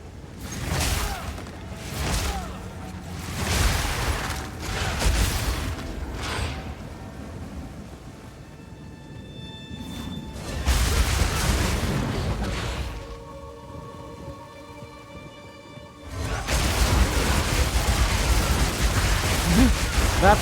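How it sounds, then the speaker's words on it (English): Explosions in Path of Exile 2 during a map run, several booming bursts spread apart, the later ones longer and louder, with game effects and chatter between them. "Even your explosions."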